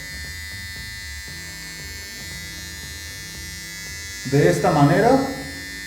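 An electric beard trimmer buzzes steadily and close up while trimming stray beard hairs, with a short spoken phrase near the end.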